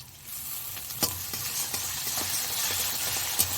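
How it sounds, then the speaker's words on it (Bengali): Garlic paste sizzles and fries with browned onions in a hot pan for Bengali rohu fish kalia, with steady hiss and a few sharp scrapes of stirring, close and without voices. "পেঁয়াজগুলো লাল লাল করে ভেজে নিয়েছি, এবার রসুন বাটাটা দিয়ে দেব।"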